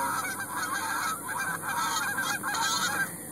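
Recorded goose-like honking calls played from a phone speaker toward a sandhill crane, a steady run of repeated nasal honks that fills the whole stretch, close and fairly loud with no talk over it.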